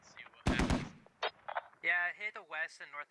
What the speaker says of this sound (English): Yep, we'll see where these mortars land.